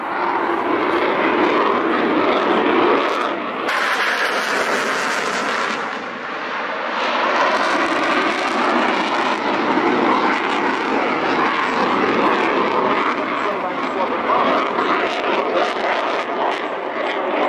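A propeller-driven Spitfire fighter from the Shuttleworth Collection flies past at an air show, a loud, steady engine drone with a throaty roar that holds for the full length, a brief shift partway through, and no talk.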